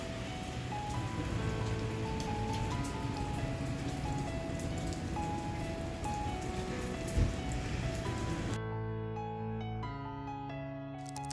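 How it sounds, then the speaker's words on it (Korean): Heavy rain pours steadily in Sabuk, Gangwon, a dense, continuous wash of drops close by with a tonal melody playing underneath. The downpour noise drops away abruptly near the end, leaving only the melody. "비 어마어마하게 오죠"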